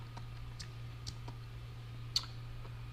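A computer mouse clicks during Photoshop editing: a few sparse, soft clicks with one sharper click near the end, over a faint steady hum.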